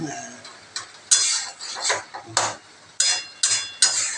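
A spoon clanks and scrapes against a pot while lau ghonto, a bottle gourd curry with bori, is stirred: a run of sharp, close knocks at irregular intervals over a quiet background, with no talking.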